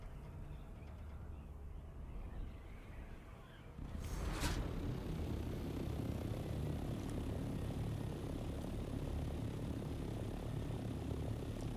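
A steady, loud engine drone of an aircraft landing in the video game Dune Awakening, swelling sharply around the four-second mark and then holding as a dense, continuous roar.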